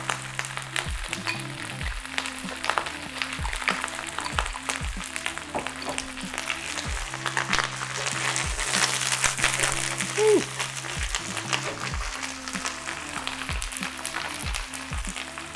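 A cauliflower steak sears in olive oil with a continuous crackling sizzle, heard under steady background music with a repeating beat, as a voice speaks quietly at times.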